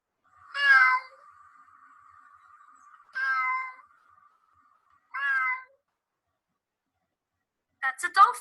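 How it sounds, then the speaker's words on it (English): A cat meows three times at spaced intervals in a quiet recording, each call clear and fairly close, followed by a brief burst of speech at the end. "That's a cat."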